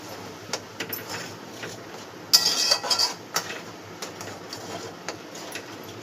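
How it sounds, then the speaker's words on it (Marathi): A spoon scrapes and clinks against a pan, stirring chicken-ball gravy with hot water in a brief cluster of strokes, with quieter kitchen clatter before and after. "मिक्स करूया व्यवस्थित"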